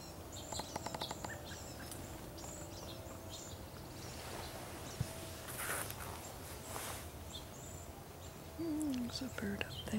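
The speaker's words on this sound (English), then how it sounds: "There's a bird up there." A bird calls from up in the trees of a quiet winter woodland, brief chirping notes rising over steady outdoor ambience, with a short whistled call near the end.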